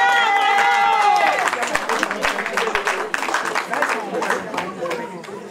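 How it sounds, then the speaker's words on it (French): An audience at a hair fashion show in Auxerre, France claps for a model, a dense crowd patter of applause rising after someone speaks over a microphone, with chatter mixed through it. "Je tiens à ce que vous applaudissez Rokhia"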